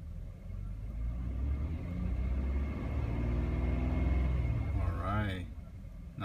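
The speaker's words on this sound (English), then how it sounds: "I'm gonna speed up a little bit on my gas pedal." A car engine being revved on the gas pedal gives a steady, close low rumble that swells gradually and holds, with a brief voice near the end.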